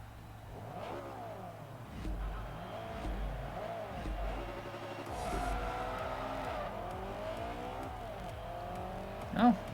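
Engines of a C4 Corvette and a Toyota Supra racing in Forza Motorsport 3, with revving, gear changes and brief tyre squeal continuing throughout, under a speaking voice.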